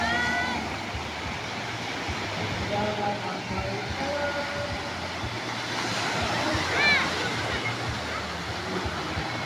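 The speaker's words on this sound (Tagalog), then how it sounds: "Laki ng alon." Big waves roll onto a beach in a steady, broad roar of surf, with wind and faint distant voices of children mixed in throughout.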